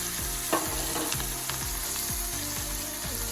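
Chopped onion and asafoetida frying in a hot pan give a steady, close sizzle, with a spoon scraping and stirring in a regular rhythm throughout.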